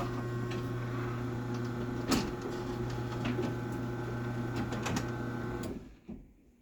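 A LiftMaster 8355W garage door opener runs on a mini door, giving a steady motor hum with a few clicks and knocks, then stopping abruptly near the end with a final clunk.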